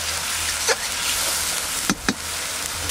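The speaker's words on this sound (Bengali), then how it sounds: "পেঁয়াজটা ভালো করে ভাজা ভাজা করে নেব।" Ground onion frying in a pan for a village-style chicken curry, a continuous close hiss and sizzle with a couple of brief stirring scrapes.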